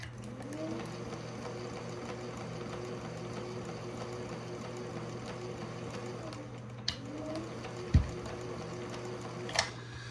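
A Singer 431G sewing machine runs at a steady, sluggish pace even at full throttle, with an even mechanical hum and rhythmic stitching, plus a couple of sharp clicks near the end.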